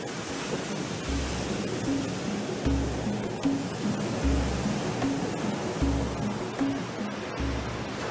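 Surf washing onto a sandy beach on Trinidad's coast, a steady, broad roar of breaking waves with no voices.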